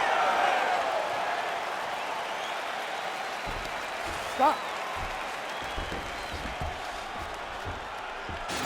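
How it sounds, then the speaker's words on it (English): Crowd applause and cheering in a UFC 4 video game fight between Ciryl Gane and Sergei Pavlovich, following a round; a steady, moderate wash of clapping with a commentator talking over it. "So the crowd voicing its appreciation after that round"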